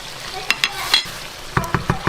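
Seasoned tofu stir-fries in a pan for a West African vegan okra stew, a soft sizzle broken by a handful of sharp spatula taps and scrapes, the last four in a quick close cluster.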